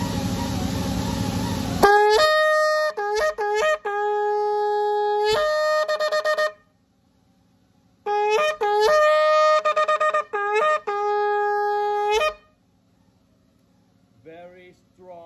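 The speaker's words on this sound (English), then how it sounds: "So let's hear the sound of this Oryx Gazelle Shofar" A polished Moroccan oryx gazelle (gemsbok) shofar, extra-large, blown up close in loud, brassy blasts. Steady held tones break into short stuttering notes with quick pitch slides, in two long phrases separated by silence, then a faint sound at the end.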